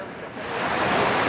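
Water from the Fountain of the Four Rivers in Rome's Piazza Navona splashes in a steady, broadband rush that swells slightly louder toward the end, heard close and continuous with no pause.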